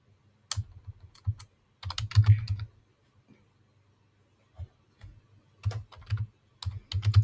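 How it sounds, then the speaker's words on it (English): Computer keyboard keys clatter in short bursts of close, crisp typing, with brief pauses between runs and no voice over them. "just typing page type equal to advanced find"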